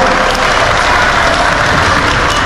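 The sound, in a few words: applause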